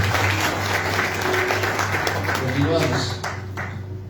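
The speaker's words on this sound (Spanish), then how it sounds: "Den un fuerte aplauso al Señor, por favor." A church congregation claps loudly and steadily, with a low musical hum and voices mixed in beneath the applause, which eases slightly toward the end.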